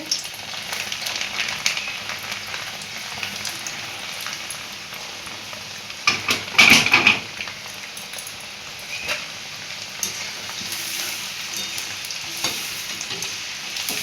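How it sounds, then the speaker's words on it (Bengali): Split chickpeas (chana dal) fry in hot oil for homemade dal chanachur, a dense continuous sizzle and crackle with a louder bubbling burst near the middle. "ছোলার ডাল দিচ্ছি অল্প অল্প করে ভাজবো তেল গরম হয়ে গেছে"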